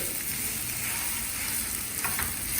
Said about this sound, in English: keep the flame on slow and stir